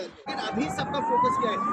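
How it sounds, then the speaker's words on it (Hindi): An ambulance siren in a Turkey-Syria earthquake rescue zone wails steadily with a slowly rising tone, moderately distant, beneath someone talking over it. "ये जो आप आवाज सुन पा रहे हो ना, ये एम्बुलेंस की आवाज है"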